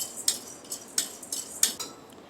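A spoon scrapes and clinks against a metal pan in a steady rhythm, stirring dry lentils as they roast for sambar, with no talking.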